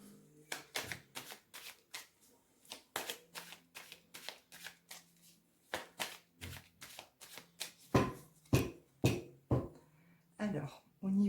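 Oracle cards being cut and shuffled, a rapid run of crisp riffling snaps and flicks in bursts, with a short pause partway and louder slaps toward the end, close and clear.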